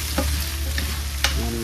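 Crushed tomatoes sauté in a pan with a continuous close sizzle, broken by a few light clicks of a utensil stirring.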